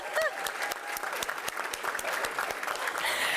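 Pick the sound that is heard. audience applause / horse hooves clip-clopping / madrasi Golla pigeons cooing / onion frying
audience applause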